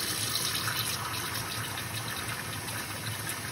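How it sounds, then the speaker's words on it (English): Steady water runs from a kitchen tap, a continuous broadband gush with no talk over it, holding even and fairly loud for a few seconds. "So now we want to turn on the water."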